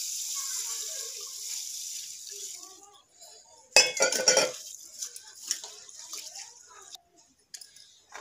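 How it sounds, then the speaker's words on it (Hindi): Rice being rinsed in water in a home kitchen, with a steady wet sloshing at first, then sharper clinks and splashes of a vessel mid-clip and scattered faint handling sounds after. "अब हम चावल को भी धो लेते हैं"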